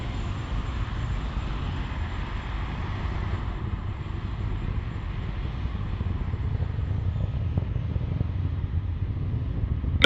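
A SpaceX Falcon 9 rocket is climbing through supersonic flight, and its engines give off a continuous broadband roar that holds steady and builds slightly, with no voices over it.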